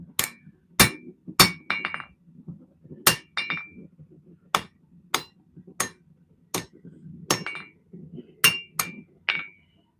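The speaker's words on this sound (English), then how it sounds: "these big hammers are getting heavy" Heavy hammers strike hot metal in a blacksmith shop forging a blade, sharp ringing blows landing irregularly, some in quick pairs or triplets, over a low background hum.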